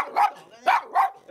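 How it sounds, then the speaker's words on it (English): A dog barks three times in quick succession, close and clear, with short yelping barks and brief gaps between them. "Look at that dog over there."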